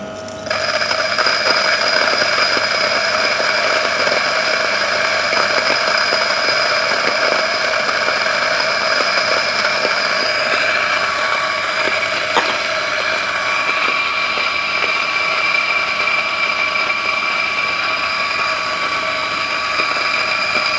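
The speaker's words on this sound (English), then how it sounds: "So now let's turn on the grinder." An espresso-bean coffee grinder beside a Gemilai espresso machine runs continuously for about twenty seconds, a loud, steady motorized whine with bright sustained tones and a gritty undertone, heard alone without talk.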